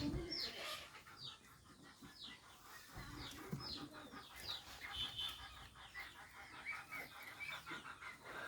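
Giribaz high-flyer pigeons cooing and fluttering in a busy enclosure, with other fowl clucking nearby and continuous bird chatter; no speech.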